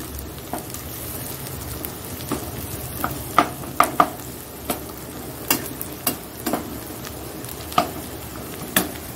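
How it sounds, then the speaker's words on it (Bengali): Slit green chilies fry in a pan, a steady sizzle underneath sharp spatula clicks and scrapes that come every second or so, close by, with no one talking. "দুটো কাঁচা লঙ্কা চিড়ে দিয়ে দিচ্ছি এর মধ্যে"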